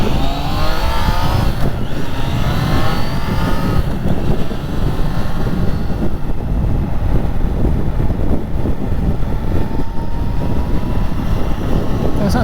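A Triumph Trident 660 motorcycle pulls away in fifth gear from 40 mph on a wet November road in the UK, its engine note rising steadily under heavy wind rush, with a rider talking over it.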